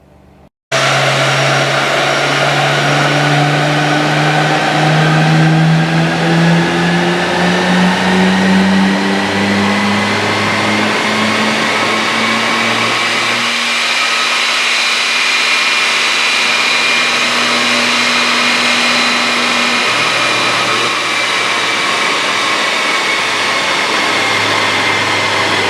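A Nissan Skyline GT-R engine drones loudly and steadily on a dyno run, its pitch climbing over many seconds before a shift midway, then continuing alone until the run ends.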